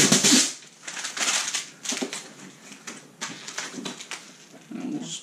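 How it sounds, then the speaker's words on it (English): Stickers and labels are peeled off a Harbor Freight Apache 4800 plastic equipment case, giving repeated close ripping and tearing bursts in short irregular strokes. "Peel all these stupid labels off."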